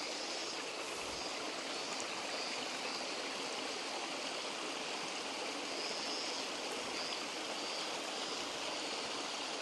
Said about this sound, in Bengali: এই যে এখন নিচে চলে যাচ্ছে একদম পাহাড়ের উপর থেকে জলটা আসছে